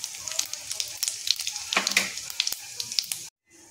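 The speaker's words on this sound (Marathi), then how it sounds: "आता इथे आपण जिरे घालून घेऊया" Cumin seeds fry in hot oil with mustard seeds already crackling, making a busy sizzle full of small pops that cuts off abruptly near the end.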